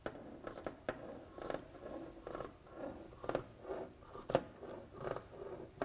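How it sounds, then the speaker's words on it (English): Scissors snip through T-shirt fabric while a face mask is being made, a series of crisp, close cuts and rustles at an irregular rhythm, fairly quiet with no talking. "I'm just using these scissors just as reinforcement"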